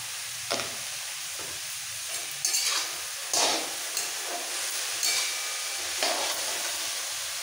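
Mixed vegetables seasoned with salt and turmeric fry in oil for street-style pav bhaji, a steady close sizzle broken by several short scraping stirs of the spatula in the pan.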